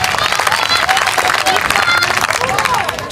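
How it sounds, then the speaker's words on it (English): Dense, continuous applause from a crowd at a Freedom Day rally with scattered cheers and background chatter, loud and steady throughout. "Let's give our activists a big round of applause."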